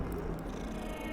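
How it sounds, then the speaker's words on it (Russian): Soft, steady purring of a cat in the video game Hogwarts Legacy, a low continuous rumble heard close up without talk. "Ну, как мурлыкает."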